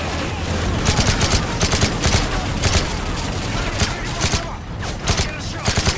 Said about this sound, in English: Yuri, man the 50 caliber, lay down cover fire. Put fire on the technical